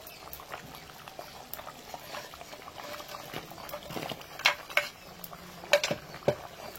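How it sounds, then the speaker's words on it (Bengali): Potato and pointed gourd curry bubbling in a pot, a soft continuous simmer with scattered small pops and a few sharper clicks of bubbles bursting, close and fairly quiet. "দেখো আলু পটল ঝোল সব টকবক করে ফুটছে"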